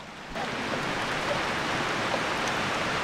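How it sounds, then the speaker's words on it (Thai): Rain falls steadily in a rural countryside setting, a dense even hiss that swells in after a brief quieter moment and then holds constant with nobody speaking. "เบิ้งฝนตกอีก"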